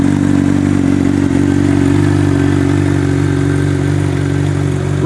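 A Honda CBR 600 RR sport motorcycle engine running at a steady idle nearby, a continuous loud even hum with slight mechanical clatter, heard alone without talk.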